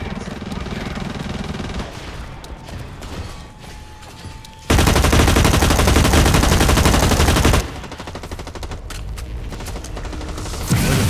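Gunfire from the video game Blacklight Retribution crackles in dense automatic bursts, with a very loud sustained fusillade in the middle and more scattered shots before and after.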